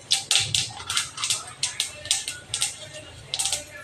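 Mustard seeds spluttering in hot oil in a home kitchen, with cumin about to go in, making a quick run of sharp crackling pops about every half second, close and crisp over a quiet background.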